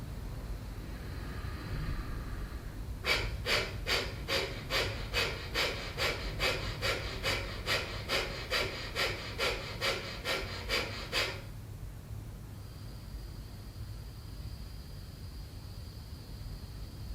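Bhastrika pranayama bellows breathing: a round of about fifteen rapid, forceful exhalations through the nose in a steady quick rhythm, close and clear over a faint hiss, with quiet breathing before and after.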